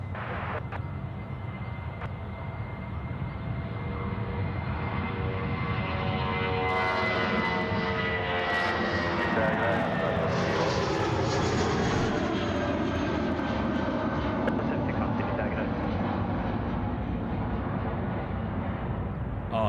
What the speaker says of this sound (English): Jetstar now rolling runway 34 right, front and centre.